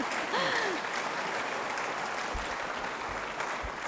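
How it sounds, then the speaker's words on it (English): A press conference audience gives a sustained round of applause for the company DoTerra, a continuous crowd clapping that holds evenly throughout, with a few low thumps near the end. "give another round of applause to DoTerra"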